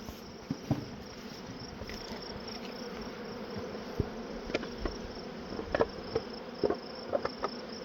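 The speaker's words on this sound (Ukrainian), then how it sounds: "Бачите, Всюди бджоли і з надвору є," A dense, steady buzz of many honeybees swarming close by around a hive, inside and out, with scattered soft knocks and rustles over the constant hum.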